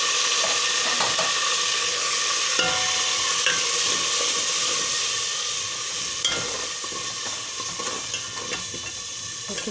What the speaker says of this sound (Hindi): प्याज अच्छे से ब्राउन होने शुरू हो गए हैं।